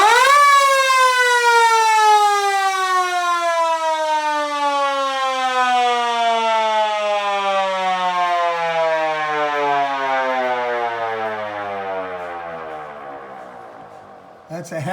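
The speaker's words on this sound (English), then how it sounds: "This is the Siren, believe me." A loud siren wails with a single long, steadily falling tone that winds down over about fifteen seconds, rich in harmonics, ending abruptly.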